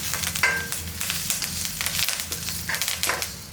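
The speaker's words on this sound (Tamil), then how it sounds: "அதாவது இந்த கருவேப்பிலை நல்லா பொரிஞ்சிடணும்." Curry leaves crackle and sizzle in hot oil, with sharp spitting pops over a steady frying hiss, close by and fairly loud.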